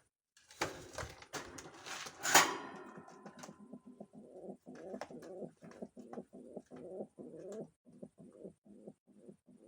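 A flurry of wing flaps and rustling, then pigeons cooing in soft, repeated low phrases close by.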